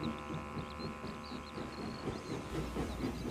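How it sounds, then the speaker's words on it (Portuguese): A steam engine from the motorized Thomas and Friends series halts at a tunnel entrance, with hissing steam and clanking wagon noise under faint high chirps, fairly close and continuous. "O trem parou na entrada do túnel."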